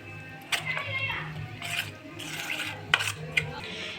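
Spices, cumin and chilli powder, stirred into a little water in a bowl for a crispy brinjal fries batter: soft scraping swirls with a few sharp spoon clinks against the bowl, close and moderately loud.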